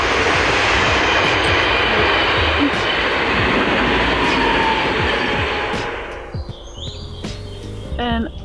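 Train rushing past on nearby tracks: a loud, dense, continuous roar for about six seconds that suddenly drops away, leaving quieter rumble and a few faint clanks.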